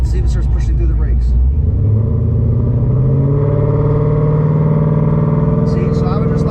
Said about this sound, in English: just slowly rev it up and see if it starts pushing through the brakes.